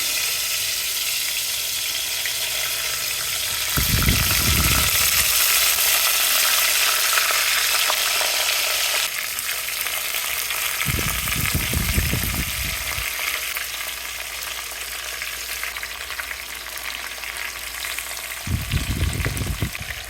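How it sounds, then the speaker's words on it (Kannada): Mustard seeds, cumin and curry leaves sizzle steadily in hot oil with a bright crackling hiss, broken three times by louder rattling bursts as the pan is stirred. No voices. "ಇದಕ್ಕೆ ಒಂದು ಸ್ವಲ್ಪ ಸಾಸಿವೆ, ಒಂದು ಸ್ವಲ್ಪ ಜೀರಿಗೆ ಮತ್ತು ಒಂದು ಸ್ವಲ್ಪ ಕರಿಬೇವು ಹಾಕೋಣ"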